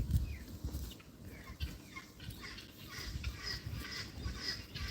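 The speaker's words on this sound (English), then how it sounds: "Except for the guineas, you hear them?" Guinea fowl on a farm give repeated high, scratchy calls at a distance, faint over a low background rumble among other farm animals.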